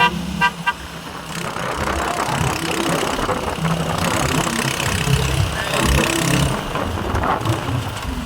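Motorized tricycle ride in traffic toward a shopping mall, with a steady engine drone, a few short horn toots near the start and busy road noise throughout.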